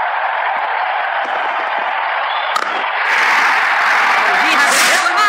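Spectators at a Bangladesh vs Canada cricket match keep up a steady loud roar, rising further in the final two seconds into excited cheering and applause.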